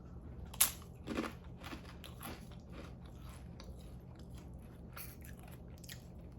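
Lundberg Family Farms rice chips crunched close to the mouth, a sharp first bite followed by a few softer crunches and quiet chewing, faint and without talking.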